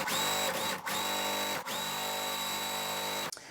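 Sewing machine stitching quilt block pieces together, a fast, steady mechanical whir running in two long bursts with short pauses between, close and alone.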